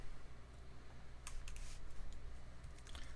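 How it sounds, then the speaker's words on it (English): Keystrokes on a computer keyboard while notes are typed, scattered light clicks in small bursts, faint and close over a steady low background hum. "I'm just typing this, so I hope you're following along"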